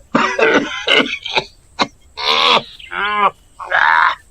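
A series of harsh coughs and throat-clearing bursts, close and loud, separated by short pauses.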